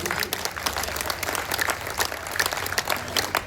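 An audience at a Hindi stage event breaks into applause, a dense, fluttering patter of many hands with a low hum underneath, lasting the whole short stretch.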